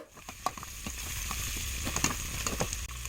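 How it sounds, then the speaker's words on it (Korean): Beef brisket and minced garlic fry in a pan, a steady close sizzle with scattered crackles and occasional stirring clicks throughout. "아까 우리 열심히 다졌던 마늘, 이거를 같이 볶아줍니다."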